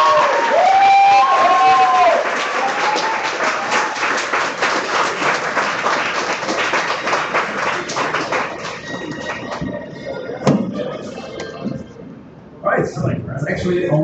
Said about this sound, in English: And one more applause for him,